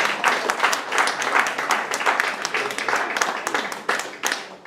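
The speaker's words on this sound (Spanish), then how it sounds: "Un aplauso para Maribel Alonso." An audience claps for a poet at a poetry evening and book presentation, a loud, busy patter of many hands close by that holds steady and then thins out near the end.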